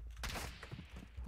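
Gunfire crackles in a military video game, a quick burst of faint, distant rapid shots followed by a few scattered pops, with no talk during it.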